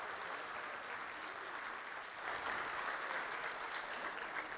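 Audience applause at a university conference session in Tunisia, a faint, distant wash of clapping that swells slightly partway through and continues steadily.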